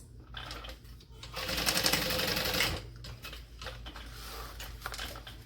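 Sewing machine stitching fabric for a Dayna Pack bag at a 3.5 to 4 stitch length with a quarter-inch seam, a steady close mechanical whir that swells louder through the middle and then eases back.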